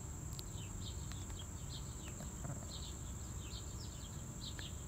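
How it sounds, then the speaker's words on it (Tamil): Sparrows chirping in a small home garden: faint, scattered high chirps repeat throughout, set well back against a steady low background hum and rumble. "இந்த மாதிரி தான் குருவி சத்தம் கேட்கும்"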